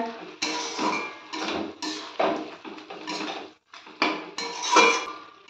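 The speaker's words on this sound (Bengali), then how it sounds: "এবার এর মধ্যে আমি ভেজে রাখা মশলাগুলো দিয়ে দেব। ভালো করে একটু নেড়ে দেব এবার।" A spoon scrapes and clanks against a pan while cabbage curry with fried spices is stirred, in irregular metallic bursts close by with no talking.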